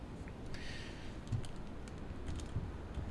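Soft, quick keystrokes on a computer keyboard, a light patter of clicks at close range over a steady background hum, with no talking.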